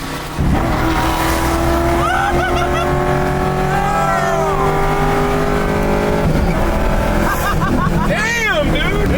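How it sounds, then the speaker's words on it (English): A V8 LS-swapped Chevrolet Camaro engine loudly accelerates, its steady rising roar filling the scene, with people talking and shouting over it. "This Camaro hauls ass"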